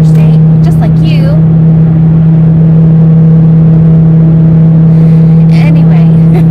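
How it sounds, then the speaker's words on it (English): A truck passes on an interstate highway, a loud steady drone and whir of traffic heard from inside a moving vehicle, with a few faint squeaks over it and no talking. "Hi, Mr. Truck. Thanks for realizing I was getting on the interstate, just like you."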